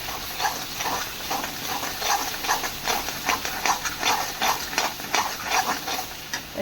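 Cashew curry with added chili stirred in a sizzling pan, with a steady hiss of frying and a series of repeated scraping strokes close by, and no talk.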